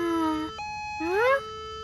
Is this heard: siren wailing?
yes